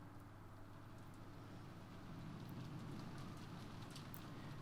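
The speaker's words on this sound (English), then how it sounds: "as the sound of wind and rain slowly filled the room once again" Steady wind and rain in the Umineko visual novel game, a continuous broadband wash that swells slightly louder partway through, with faint patter on top and no voices.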